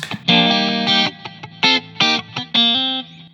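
A short electric guitar phrase with a distorted, chorus-tinged tone: a few sustained notes followed by quick stabbing notes, played alone and up close.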